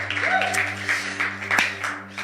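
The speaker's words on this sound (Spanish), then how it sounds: "¿Le puedes dar otro aplauso a Jesús?" A church congregation applauds together, a steady wash of clapping with sustained music tones underneath and a few louder swells throughout.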